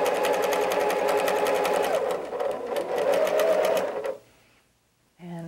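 A sewing machine runs steadily for about four seconds, stitching a quarter-inch seam on pressed quilt pieces cut for a diamond sampler block, then stops. A short quiet follows before another sound begins.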